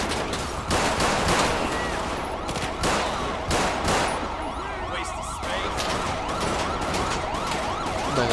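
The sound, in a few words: police sirens in video game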